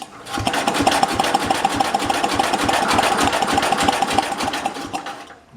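A Simplicity 7010 garden tractor engine chugs steadily at low throttle, a rhythmic, even putter that runs close and moderately loud before cutting off near the end.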